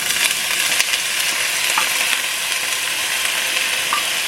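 Beef short ribs are set into a hot pan and sizzle loudly and steadily, a close, constant frying hiss with a few faint clicks, and no talk.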